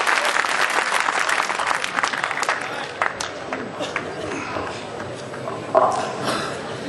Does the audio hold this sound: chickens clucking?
no